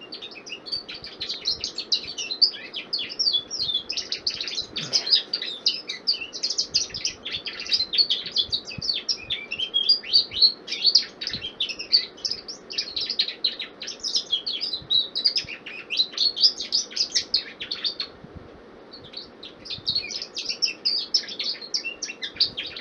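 A pet bird chirps and tweets excitedly toward a running fan indoors, with rapid, busy bursts of high chirping that go on almost continuously and only briefly thin out.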